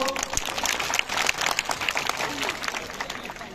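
A crowd at a village festival event claps in a busy, uneven burst, with voices and background chatter mixed into the applause.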